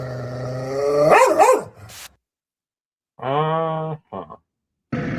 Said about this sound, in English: Very angry dog.